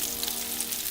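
Onions sizzling in a pot with bay leaves, dried rosemary and thyme for beef bourguignon, a faint steady hiss of frying with no voices.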